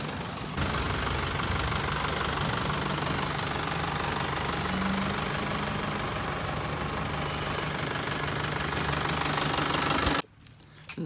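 A vehicle engine runs loud and close with a rough, knocking drone that holds steady for about ten seconds before cutting off abruptly.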